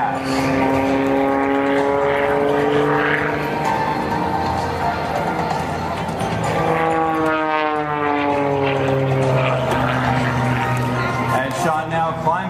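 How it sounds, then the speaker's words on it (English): A propeller aircraft making a low, slow pass at the 2012 Sacramento Capital Air Show, its engine drone swelling and shifting pitch as it goes by, under continuous public-address commentary. "making a turnaround and then return to give you his low altitude, low speed photo pass"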